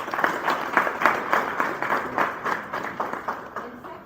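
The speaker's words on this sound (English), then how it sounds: "let's congratulate each other by a warm round of applause for being part of this" A tech challenge audience gives a warm round of applause, a close, continuous patter of many hands clapping with slight swells in loudness, gradually easing toward the end.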